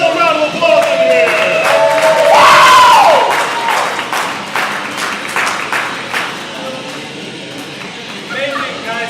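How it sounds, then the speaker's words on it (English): A live-show audience at the Spontaneous Jimmy McAfee Show breaks into loud clapping, whoops and shouted cheers, peaking early then settling into scattered applause and voices, with one rising yell standing out near the front. "Can we get another round of applause in here?"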